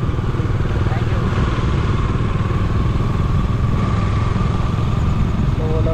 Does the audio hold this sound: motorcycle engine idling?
yes